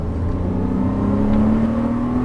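A Porsche Cayman S engine revs up close and loud, its pitch rising steadily through a short, continuous acceleration.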